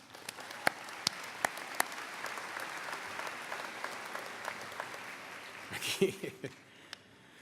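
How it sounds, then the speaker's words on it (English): Audience applause at a Kankakee Community College commencement ceremony for graduates and families, fairly distant and steady, with a few sharper claps standing out and a brief voice near the end. "Give yourself a round of applause."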